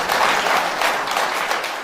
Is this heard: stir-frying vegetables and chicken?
no